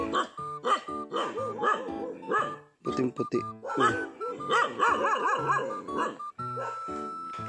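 A dog barks repeatedly in quick, uneven bursts with yips mixed in, fairly close, while a person talks over the noise.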